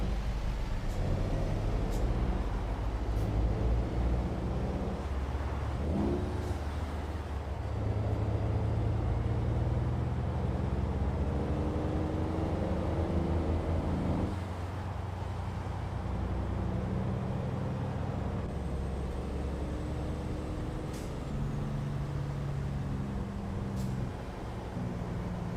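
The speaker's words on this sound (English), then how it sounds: "car sounds pretty darn good" A truck engine drones steadily while driving in the American Truck Simulator video game, with a low continuous rumble, shifting gear tones and occasional brake hisses throughout, no talking.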